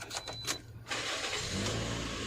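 A 2012 Toyota Altis 1.8G petrol car cranks briefly, then catches and settles into a steady, close idle that runs to the end, with no talking.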